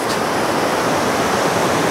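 Ocean surf at Legian beach in Bali in the early morning: a dense, continuous wash of breaking waves at the water's edge, loud and steady with no speech.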